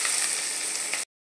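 Black cumin, chopped chilli and onion sizzle in hot oil, a steady loud hiss and crackle running unbroken for about a second before cutting off abruptly.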